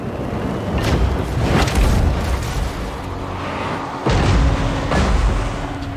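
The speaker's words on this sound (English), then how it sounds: "Cannons fire upon the defenders." Cannons in the video game Total War Warhammer 3 fire a barrage on defenders, heard as a string of loud, close, deep booms with rumbling tails, several blasts overlapping across the stretch.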